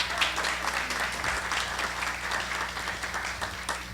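An audience at a history forum in Tabasco, Mexico gives a steady round of applause, many hands clapping continuously over a low steady hum.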